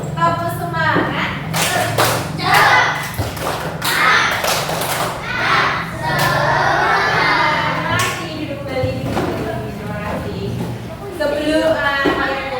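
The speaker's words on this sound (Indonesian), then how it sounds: "Tepuk semangat." Schoolchildren in an elementary classroom doing a rhythmic group spirit clap, sharp sharp claps and thumps in patterned bursts mixed with their chanting voices and a teacher speaking.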